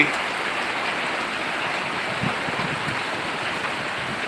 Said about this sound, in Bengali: প্রচন্ড বৃষ্টি